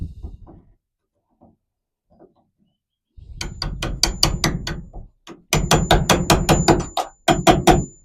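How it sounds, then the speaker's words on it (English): A hammer strikes a chisel cutting out wood in rapid, sharp bursts of closely spaced knocks, loud and near, with a few faint taps and quiet gaps before the steady hammering begins. "What we're going to do next is chisel out some of this."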